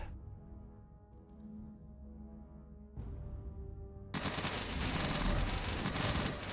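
Video game gunfire in a skeleton-filled dungeon crawler, starting after a quieter stretch of game sound and then swelling into a dense, continuous roar of rapid shots that stays loud to the end.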